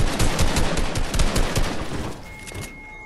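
Fast rattling gunfire in a Fortnite build fight, a loud close burst of rapid shots lasting about two seconds before fading, with no talk.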